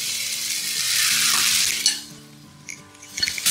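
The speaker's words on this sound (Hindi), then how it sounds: "अब इसको 4 अदद इसमें मैंने बड़े साइज़ के आलू ले लिए। अब इनको डाल दूँगी।" Four large potatoes being added to a hot pan for samosa filling: a steady, loud sizzle and frying hiss close by, then a few scraping and clattering pan sounds as it dies down.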